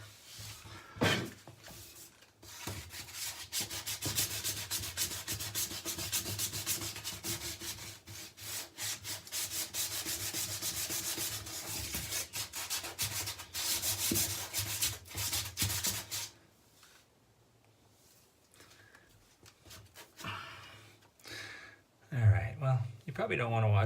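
Sanding block rubbed back and forth over a water-damaged bathroom wall repair behind a vanity, a steady close scraping rasp for about sixteen seconds before it stops, with brief talk near the end.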